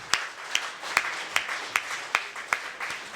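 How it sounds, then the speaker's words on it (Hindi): Audience at a Hindi poetry recital clapping in unison, a steady rhythmic beat of about eight sharp, evenly spaced claps roughly every half second over a soft crowd murmur. "आगे से पीछे तक जोरदार तालियों से मुझे आदेशित कर दीजिए"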